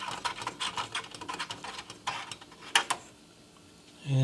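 Small plastic clicks and ratcheting ticks come close up as an appliance light bulb cover is twisted off by hand, in a quick uneven run that ends with a short soft thump.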